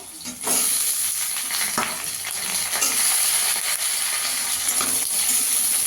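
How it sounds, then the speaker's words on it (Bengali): Green beans frying in a pan, making a loud, close, continuous sizzle and hiss with occasional scraping clicks of stirring, with no talking. "শিমগুলো দিয়ে একটু ভেজে নেব।"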